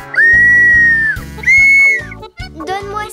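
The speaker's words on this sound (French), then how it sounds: "Tina, on a appris que tu collectionnais les sifflets." A whistle gives two loud, sustained, steady-pitched blasts, then a brief third chirp, over a rhythmic cartoon music bed.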